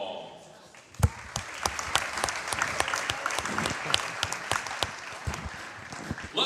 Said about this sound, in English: Let's have one more round of applause for our seniors.